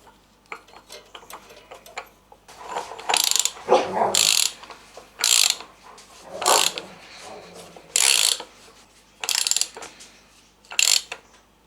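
A socket wrench ratchets close up as bolts are tightened on a Mercedes OM603 diesel engine being readied for a W124. The clicking comes in several separate bursts with short pauses between them, and no one speaks.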